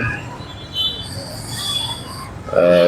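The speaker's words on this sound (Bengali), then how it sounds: "ট্রেনের সিগন্যাল করে আছে ট্রেন যাচ্ছে" A train rumbles past close by at a crossing with traffic held up, its wheels squealing in high metallic tones that rise to a loud screech near the end, with faint voices underneath.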